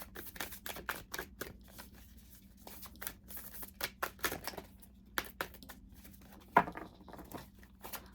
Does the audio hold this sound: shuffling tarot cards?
yes